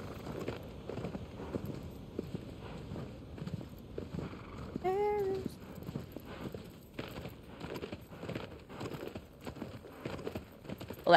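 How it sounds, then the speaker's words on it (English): A horse trots through the world of Shadow of the Colossus, its hooves clip-clopping in a steady, moderately loud rhythm, with a brief tonal sound partway through. "I do like how the horse just kind of trots along"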